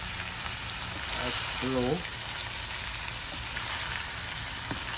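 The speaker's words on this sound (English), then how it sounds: "I take my time and stir" Jamaican ackee and saltfish sizzles and fries in a pan while being stirred slowly, a steady close crackle with brief scraping, and a voice speaks a few words partway through.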